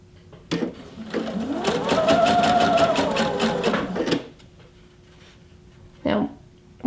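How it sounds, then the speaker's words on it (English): A sewing machine stitches a folded hem with a hemmer presser foot in one rapid, steady run of close whirring stitches, followed by a short second burst. "as it sews down the rest of the way,"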